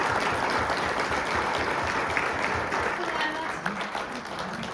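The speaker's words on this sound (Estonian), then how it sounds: "Teeme suure aplaus" Steady applause from an audience at an exhibition opening at Laitse Rally Park in Estonia, a dense, even wash of clapping heard at moderate distance throughout, with no voices on top.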